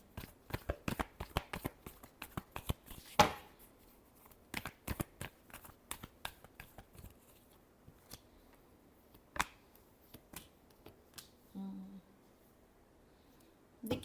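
Tarot cards shuffled by hand in quick riffling bursts and soft flicks, a steady patter of crisp papery snaps with short pauses, close and fairly quiet.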